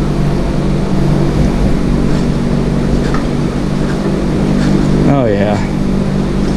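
A Briggs & Stratton 5hp flathead engine with a freshly unstuck valve runs steadily, a loud continuous close-up drone with a brief pitch sweep near the end as someone speaks briefly.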